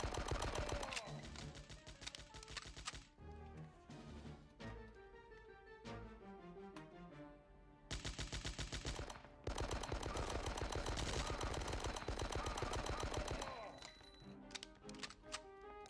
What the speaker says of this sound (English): there's a guy in a machine gun nest who's murdering everyone